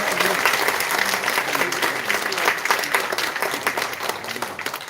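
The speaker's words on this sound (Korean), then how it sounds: "다시 한번 큰 박수 부탁드리겠습니다" Audience applause at a film screening event in Seongsu, Seoul: dense, continuous clapping from a seated crowd, fairly loud and sustained, with faint voices mixed underneath.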